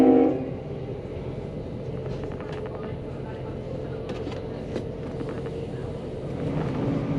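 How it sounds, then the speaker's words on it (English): A Tilt Train speeding between Brisbane and Rockhampton, heard from inside as a steady, loud rolling rumble and rail hum with faint rhythmic clicks, continuous throughout. "the Tilt train was finally able to pick up its speed"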